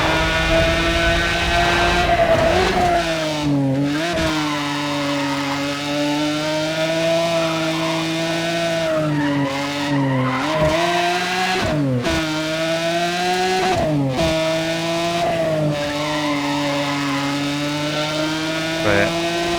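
A racing car engine in Need for Speed: ProStreet drones and revs continuously, pitch rising and dipping with brief cuts between gear shifts, loud and close throughout.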